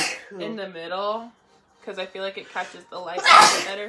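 A single sharp sneeze bursts out near the end, following someone talking in a quiet indoor setting.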